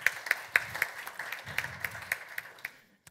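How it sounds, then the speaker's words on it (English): An audience at a deep tech panel event gives warm applause welcoming venture investor Martin Bruncko, a run of crisp claps that thins out and stops after about three seconds. "Please give him a warm round of applause."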